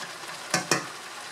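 Okra and eggplant sizzle in a pan for shrimp and pork pinakbet, a steady close fry broken by two sharp stirring scrapes.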